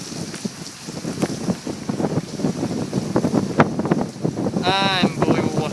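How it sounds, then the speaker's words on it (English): Strong wind whips through trees in a heavy rainstorm, a steady broadband roar mixed with falling rain throughout, with a person's voice briefly rising over it near the end. "Look at the wind just flipping the trees around."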